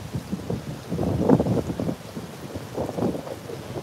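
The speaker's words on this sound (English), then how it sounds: "It's really, really so windy." Strong beach wind at Kite Beach, Umm Al Quwain, UAE, buffeting the microphone in rumbling gusts, loud and close, with surging bursts throughout.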